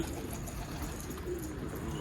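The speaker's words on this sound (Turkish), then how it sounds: "Büyük kümeste kalacak kuşlar bunlar." Pigeons cooing softly inside a large coop, a low, steady murmur of calls with no talking.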